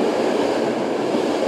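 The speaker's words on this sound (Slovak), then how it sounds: "Tu je milý vlak." An express train rumbles steadily through the Čremošnica railway tunnel in Slovakia, a dense continuous roar with faint wheel clatter, loud and close throughout.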